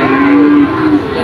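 A single drawn-out cow moo, loud and close, steady in pitch with a slight dip near the end, at a cattle market in Pati, Indonesia.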